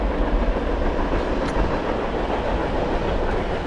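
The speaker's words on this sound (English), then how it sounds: "Still with our train accompaniment here on the CPKC." A Canadian Pacific Kansas City freight train of empty cars passes close by with a loud, continuous rumble and rattling clatter that holds steady throughout.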